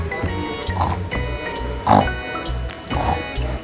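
Several grunting pig oinks come in short bursts at roughly one-second intervals, moderately loud over a repeating cheerful music bed with a steady bass pulse.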